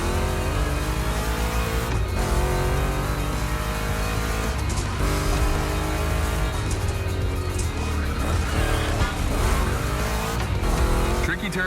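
A race car in The Crew Motorfest video game, driven through a gymkhana event: a loud, sustained engine roar with revving shifts and squealing tires, running continuously throughout.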